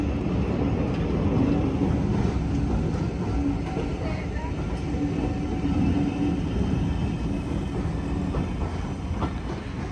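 The A4 steam locomotive Sir Nigel Gresley on the North Yorkshire Moors Railway, heard as a steady low rumble of the moving train with faint rhythmic rail clatter, continuous and fairly close.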